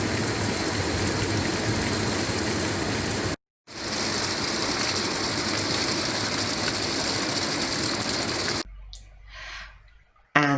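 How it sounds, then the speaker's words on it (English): Torrential summer rain pelts down in a steady, dense hiss that runs nearly the whole time, broken by a brief gap, then fades into quieter outdoor noise near the end. "on Thursday the rain pelted down, absolutely torrential, and we managed to film it"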